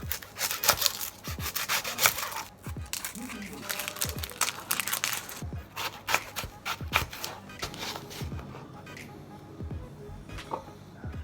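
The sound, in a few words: knife cutting onions on a board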